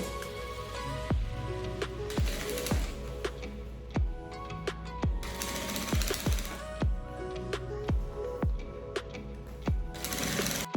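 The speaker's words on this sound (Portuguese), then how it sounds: "Vou passar uma costurinha só para prender e agora eu já venho com o meu forro" A sewing machine stitching a zipper and fabric bag lining, running in short bursts with a sharp rhythmic needle clatter and repeated clicks between runs, fairly close and moderately quiet.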